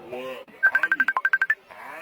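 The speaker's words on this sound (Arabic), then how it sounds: "رد على التليفون يا ابن الموكوسة." A telephone rings with a quick, pulsing electronic trill of about a dozen bright beeps. A voice talks just before and after it.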